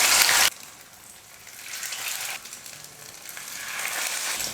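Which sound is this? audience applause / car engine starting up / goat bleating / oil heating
oil heating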